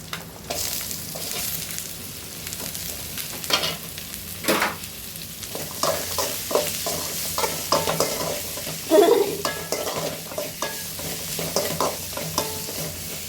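Bottle gourd pieces frying with curry leaves in a pan, a continuous close sizzle with repeated scraping stir strokes and a louder clatter midway, no voices.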